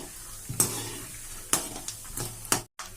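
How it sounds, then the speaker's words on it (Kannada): Mustard seeds and peanuts sizzle in hot oil with a constant frying hiss, broken by three sharp stirring clatters about a second apart before a sudden cut to silence. "ಸಾಸಿವೆ ಸಿಡಿಲಿಕತ್ತಾವ."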